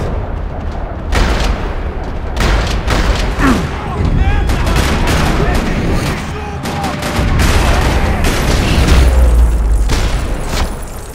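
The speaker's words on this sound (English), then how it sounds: "Another parking lot rattling with gunfire." Heavy gunfire fills a parking lot in the Max Payne 3 video game, with dense bursts of shots and booming impacts rattling almost without pause, loud and close throughout.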